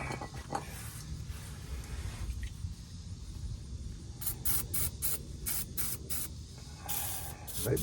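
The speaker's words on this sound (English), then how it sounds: "Let me put some more spray on it." Lubricant spray hisses onto the spare tire winch bolt of a 2000 Dodge Dakota truck in several short close bursts, with a longer spray near the end.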